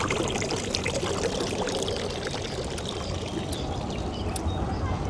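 Water poured out on a Prague street, a steady broadband splashing stream that runs the whole time against busy outdoor city noise.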